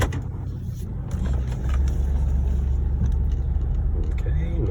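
A Jeep Grand Cherokee Limited with a 5.7 HEMI V8 fires up and settles into a deep, steady idle rumble close by, heard over a solid icy driveway with someone talking.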